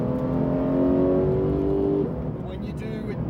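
Porsche 911 991.2 GT3 engine pulling hard above 4,000 rpm, a loud, close, rising mechanical drone that holds steady and then eases slightly toward the end.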